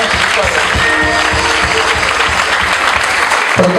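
A congregation at a church service applauds loudly in a dense, continuous wash of clapping with a faint pulsing rhythm and voices mixed underneath.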